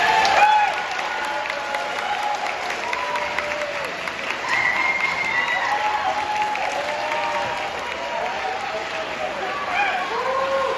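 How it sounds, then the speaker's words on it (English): A school band's audience claps steadily and loudly for about eleven seconds, with scattered cheers and a few voices mixed into the sustained applause. "So let's give these guys one more round of applause."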